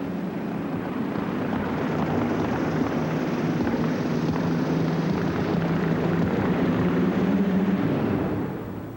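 A monster truck powered by twin Allison V12 aircraft engines running at full power at a 1991 monster truck show in Worcester, a constant heavy roar with a deep droning hum, loud and sustained throughout.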